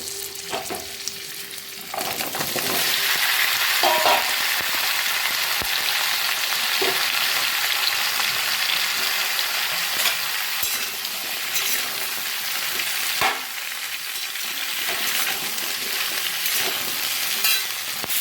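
Steady, loud sizzling of vegetables, including bottle gourd and eggplant, frying in a pan, jumping louder after a couple of seconds as more food goes in, with occasional utensil clinks.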